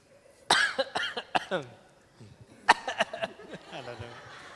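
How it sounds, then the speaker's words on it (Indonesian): Several loud, close coughs in short bursts, with a second round of coughing after a brief pause, mixed with some throat noise and chuckling. "Ini memang batuk beneran ini."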